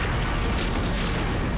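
Powerful weapon firing in a Power Rangers episode, a dense, loud, continuous blast of explosive rumble with no gaps.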